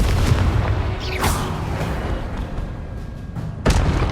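The Confringo explosive spell goes off in Hogwarts Legacy with booming blasts over constant low rumbling combat noise, a sharp crack near the start and another heavy burst near the end.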